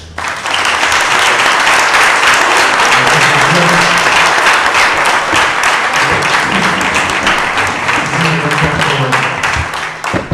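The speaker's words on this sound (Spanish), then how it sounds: "Le voy a pedir un fuerte aplauso" Loud, sustained applause from an audience at a science talk, dense clapping that fills the whole stretch evenly and tapers slightly at the end.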